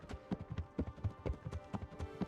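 Horse hooves clip-clop loudly in the video game Kingdom Come Deliverance, a steady, rhythmic run of close hoofbeats over a faint, steady background hum.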